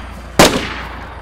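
A single loud gunshot cracks close by, aimed at zombies in the dark in DayZ, with a short sharp onset and a fading tail over quiet background.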